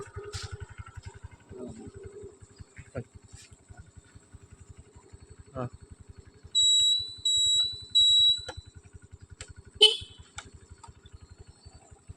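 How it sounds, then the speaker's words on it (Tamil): A used TVS Jupiter scooter, parked at a used bike shop, sounds its horn in two short beeps and a third longer one, loud and near, over a steady idling engine putter. "ஆரனை பாருங்கள், ஆரனை."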